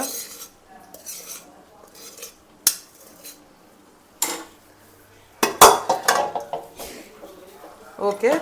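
Prawns and sour gongura leaves being mixed in a cooking pot, with scattered metal clinks and scrapes of a spoon against the pot that come in short bursts and grow busier toward the end, close by.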